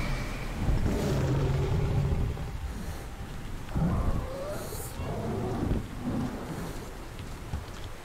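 Stormy weather with rolling thunder and rain in the video game Metro Last Light, a steady loud wash of rain and wind with low rumbles swelling several times, and a voice talking faintly beneath it.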